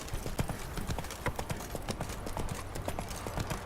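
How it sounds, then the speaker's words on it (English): Hooves of the horse Roach clip-clopping in The Witcher video game, a quick steady trot of close hoof beats with faint background sound. "Whoa there, Roach"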